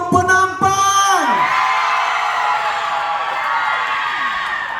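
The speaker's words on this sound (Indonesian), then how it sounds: "Kita mau dengar mana sorakan untuk Kota Kinabalu? Mana sorakan untuk Penampang?" An indoor crowd at a Kota Kinabalu community hall erupts in loud cheers, whoops and shouts for Kota Kinabalu and Penampang. A rising tonal sweep near the start gives way to a sustained roar that fades only slightly.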